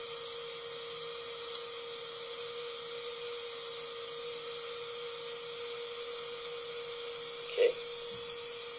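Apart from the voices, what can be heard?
Zilog ZNEO 3-phase BLDC motor running in changed direction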